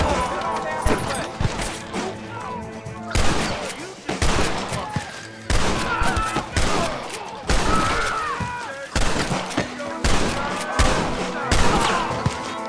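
Gunfire in the Red Dead Redemption video game, loud, repeated sharp shots in irregular bursts with echoing tails, mixed with game music and shouting voices.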